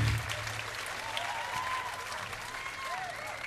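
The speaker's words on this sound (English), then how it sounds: "What a nice round of applause." A concert audience at a live rock show in a Munich hall claps steadily, with scattered cheers and whoops rising over the applause, heard from some distance.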